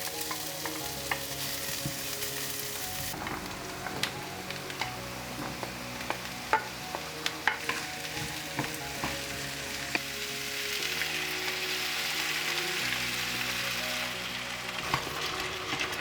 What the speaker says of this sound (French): nous allons passer à la cuisson au préalable à la poêle